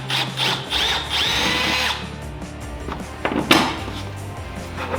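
A power drill bores into the bed of a Honda Talon 1000X-4 UTV in a loud, close whine lasting about two seconds, followed by quieter handling knocks and a short second burst of drilling.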